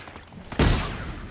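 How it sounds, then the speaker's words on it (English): A sudden explosion in the Halo Infinite video game: a hard, loud boom bursts in after a quieter stretch of game noise, then a dense rumbling roar hangs on and slowly fades. "that was an explosion"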